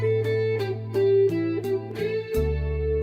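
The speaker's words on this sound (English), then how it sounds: "for the distorted sound, I've selected a turbo overdrive" A Fender Stratocaster played through a Boss processor with turbo overdrive, reverb, chorus, delay and sustain rings out as a sequence of distorted sustained notes, each struck clearly and left to ring, loud and close with no talking.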